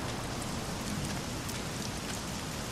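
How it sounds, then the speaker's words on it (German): Steady, dense rain in the video game Submerged, a continuous broadband hiss of drops on surfaces with no pauses and no voices. "Es fängt ja an zu regnen."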